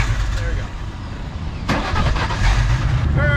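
Mustang drift car at a drift event, its engine cranking and catching into a rough, loud, rumbling idle close by, with a person speaking over the noise.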